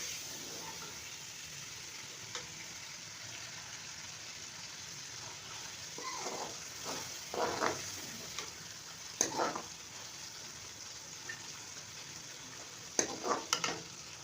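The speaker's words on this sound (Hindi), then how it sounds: "टमाटरों के नरम होने तक हम इसकी भुनाई करेंगे।" Tomatoes and spice masala fry in a pan for radish bhujiya, giving a soft, continuous sizzle close by, with intermittent scraping and stirring strokes of a spoon growing more frequent toward the end, and no talking.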